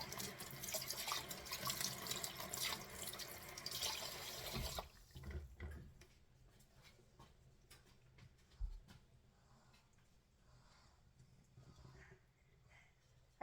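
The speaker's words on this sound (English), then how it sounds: "Let's rinse the flour off a bit." Tap water runs onto hands rinsing off flour in a kitchen, a bright splashing rush for several seconds that then eases into quieter trickles and small drips, moderately close.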